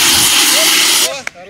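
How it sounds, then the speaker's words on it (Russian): A fire extinguisher discharges in a loud, steady rushing hiss during a fire safety demonstration for students, then cuts off abruptly, leaving voices talking in the background. "Сначала показывают работу огнетушителя"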